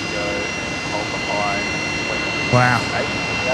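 Rolls-Royce Trent engines on an airliner at Brisbane Airport at night, a steady whining jet drone with tonal hum, heard from a distance as a man briefly exclaims in amazement and other speech passes over it.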